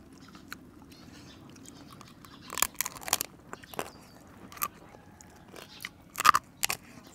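Crunchy crab egg bread is bitten and chewed close up, with scattered sharp crackling crunches that grow denser and louder toward the end over a quiet background.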